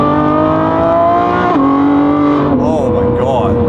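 A stock Lamborghini Revuelto fitted with an aftermarket exhaust accelerates hard, its loud, steady engine drone climbing and then dropping in pitch at two shifts, with the note rising again afterward.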